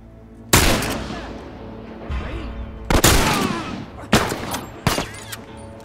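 Several loud gunshots in The Last of Us Remastered on PS4, spaced irregularly across a few seconds, each sharp blast followed by a short echoing tail.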